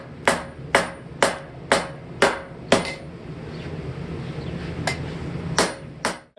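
An old steel hammer head being beaten straight with a hammer while it is made into a welding chipping hammer: about eight sharp, ringing metal strikes at a steady pace, then a pause and three more blows, close and loud.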